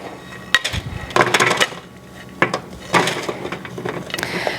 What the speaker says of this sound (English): we're going to transfer it to a pan just to separate them out